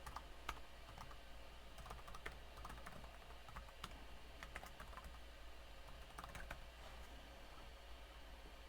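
Keyboard typing as a PPPoE username and password are entered, a steady run of quick, light key clicks with no talking, heard close but faint.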